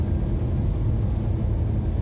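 Cars on an Orlando road during the morning commute, a steady low rumble of traffic held at an even level with no voices.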